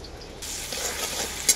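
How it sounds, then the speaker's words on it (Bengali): Chopped onion hits hot oil in a pan, bursting into a bright, close sizzle that holds steady, with a short clink of a utensil near the end. "তেলের মধ্যে দিয়ে দেবো কেটে রাখা পেঁয়াজ"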